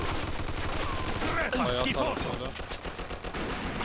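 Gunfire and a grenade blast in the video game Mafia 2 Definitive Edition: a dense, loud wash of shooting with a burst around the middle, while a voice is heard over the noise.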